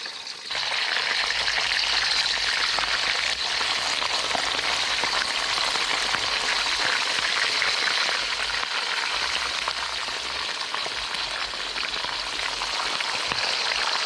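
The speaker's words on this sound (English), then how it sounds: "it sounds like it's been preheated, so I'm gonna go ahead and just drop the fish in" Fish fried in preheated oil makes a steady, dense sizzle with fine crackling. It starts just after the fish goes in and stays constant and close, with no talking.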